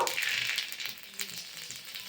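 A short, steady sizzle of a bay leaf frying in hot oil in a kadai, close by, with a bright crackling hiss and no voices.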